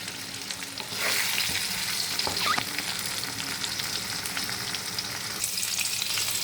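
Pointed gourd (potol) pieces frying in hot oil, a steady loud close sizzle with a brief stirring or lifting movement partway through.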